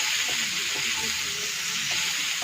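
Cauliflower frying in hot oil, a steady, close, dense sizzle that stays even throughout with no talk over it.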